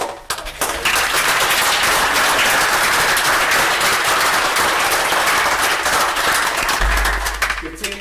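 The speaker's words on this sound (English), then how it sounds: "But again, round of applause to you all." A packed council chamber breaks into loud, sustained applause for the coaches, dense clapping filling the room from start to finish with a few whoops and voices underneath.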